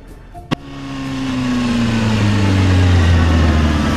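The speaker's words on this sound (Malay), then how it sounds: "Tiba-tiba aku dengar bunyi exhaust motor." Loud motorcycle exhaust roaring in close, starting after a sharp knock and swelling into a deep steady engine drone that grows louder and holds, with the pitch sliding gradually lower.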